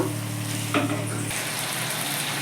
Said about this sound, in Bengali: এবার আমি সেদ্ধ লতিটা দিয়ে দিচ্ছি পেঁয়াজটার সঙ্গে মশলাটাকে খুব ভালো করে মিশিয়ে নেব